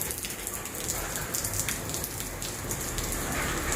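Steady rain falls on flowering plants outdoors, a dense hiss of drops with no pauses, fairly close and even throughout.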